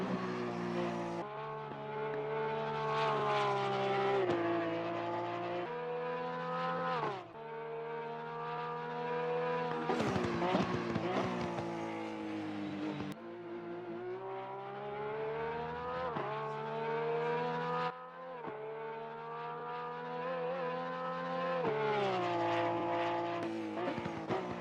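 Porsche 911 race car lapping Oulton Park in Assetto Corsa Competizione, its engine droning steadily with rising pitch through the gears, with repeated shift drops and brief tire scrubbing through the corners.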